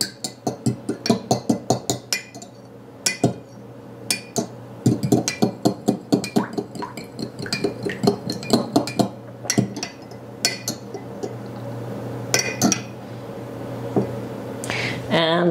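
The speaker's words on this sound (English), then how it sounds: "So we're going to whisk this" Wet biscotti ingredients, eggs, milk and a splash of vanilla, are whisked in a bowl, giving rapid, uneven clinking taps against the bowl's sides, close and bright, with a quiet voice now and then.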